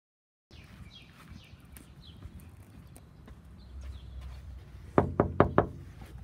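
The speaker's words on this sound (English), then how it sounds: "Just knocking" Knuckles rap on a front door during a visit to a friend's house: four sharp, evenly spaced knocks ring out near and clear toward the end, after a quiet stretch of outdoor ambience with faint birdsong.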